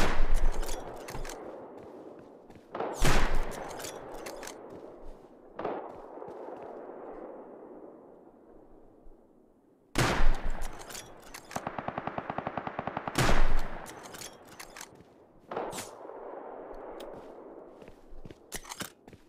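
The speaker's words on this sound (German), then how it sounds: "Von da drüben wird jetzt auf mich geschossen." Gunfire in Rust, with a sniper shooting at the player: sharp loud cracks and bursts of automatic rifle fire in irregular clusters, some near and some farther off, separated by short quiet gaps.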